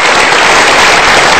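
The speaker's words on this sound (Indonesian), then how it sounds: "Selamat sekali kita berikan tepuk tangan." Studio audience applauding on an Indonesian Metro TV game show as prize winners return to their seats, a dense, steady wash of clapping at close range that fills the whole moment.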